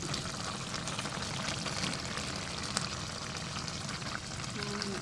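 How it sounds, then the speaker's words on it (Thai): A pot of Thai mok mor with bamboo shoots is at a steady boil. A dense, continuous bubbling and hissing stays even and fairly close throughout. "นี่ครับทุกคน เริ่มเดือดแล้วครับ"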